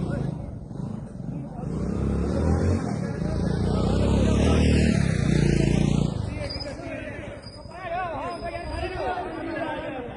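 A car is driven up at a cricket ground, its engine rumbling louder as it draws near and then easing off, with voices chattering over it.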